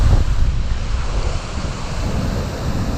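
On Lake Erie near Buffalo, NY, a blizzard wind roars across the microphone while strong lake waves crash and churn nearby, loud and continuous with surging low rumble and no talking.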